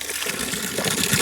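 Water gushes from a spring spout in the Pahadi hills, a steady, loud splashing rush close by with no voices.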